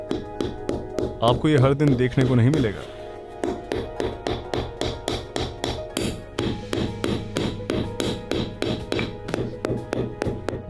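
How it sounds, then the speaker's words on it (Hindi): A fruit frozen solid in extreme cold, around -55°C in Yakutsk, is used as a hammer, producing a steady series of sharp, evenly spaced knocks. Someone talks briefly over the start, with a music-like swell early on. "यहाँ के लोग जरूरत पड़ने पर जमे हुए फलों को हथौड़े की तरह भी इस्तेमाल करते हैं।"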